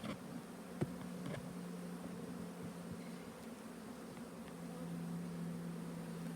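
Honey bees drone steadily inside an open hive colony during an inspection, a continuous close buzz with a few brief clicks and knocks from handling frames.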